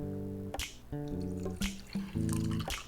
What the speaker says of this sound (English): you have to stir it up before you pour it